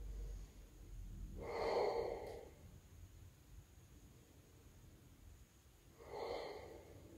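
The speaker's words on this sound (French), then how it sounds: "Respirez à fond avec les côtes." Two slow, deep breaths during a yoga session, each a soft airy inhale and exhale heard close and alone over quiet room hiss, several seconds apart.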